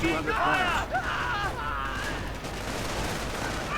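Strategy war game strafing run, a dense continuous rattle of aircraft gunfire and explosions blending with battle noise, with a voice speaking over it throughout.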